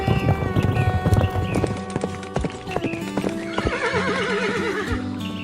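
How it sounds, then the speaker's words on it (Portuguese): Wild Mustang horses whinny and neigh loudly over steady clip-clop hoofbeats, with several overlapping calls and a long, wavering neigh near the end. "Os cavalos selvagens Mustang têm altura média entre 142 e 163 centímetros"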